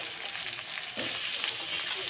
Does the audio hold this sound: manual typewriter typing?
no